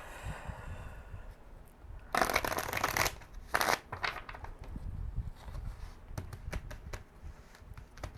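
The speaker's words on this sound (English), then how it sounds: "Okay, one more shuffle," Tarot cards being shuffled by hand, with soft riffling bursts and several crisp flicks and taps, close and fairly quiet, with no talking.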